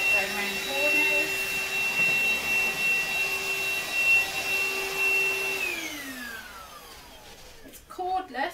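Morphy Richards SuperVac 2-in-1 cordless bagless vacuum cleaner running with a steady high-pitched motor whine, then spinning down as its pitch falls toward the end, close and moderately loud, with no talk.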